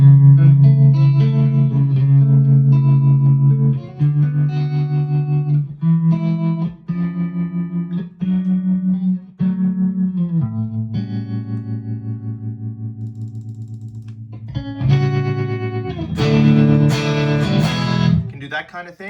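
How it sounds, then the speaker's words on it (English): Electric guitar through an Axe-Fx VCA tremolo effect synced to tap tempo, sustained notes pulsing in rapid volume throbs, reverb-tinged, with a brighter strummed swell near the end, no talking. "I like the VCA tremolo."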